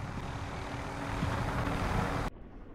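A helicopter in Call of Duty Warzone gives off a loud, steady rotor and engine roar that cuts off abruptly near the end, leaving a quieter background hum; no voices.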